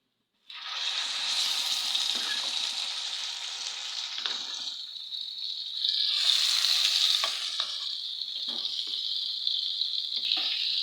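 Tempering spices sizzle and fry in hot oil in a pan for a coriander and sorrel-leaf chutney, a steady close hiss that swells partway through with a few soft stirring taps.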